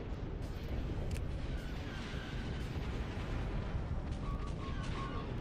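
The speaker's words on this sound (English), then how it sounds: "Main cannons powered and ready." Heavy main cannons fire in a Star Wars: Empire at War mod space battle over Mustafar, a dense, continuous roar of booming salvos and blasts that stays loud throughout.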